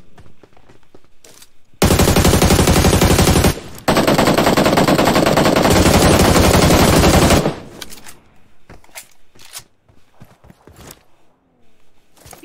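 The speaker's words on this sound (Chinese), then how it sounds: "对，就是枪声。" Game for Peace gunfire comes as two long, loud automatic bursts split by a brief gap, followed by scattered fainter single shots and quieter game sounds.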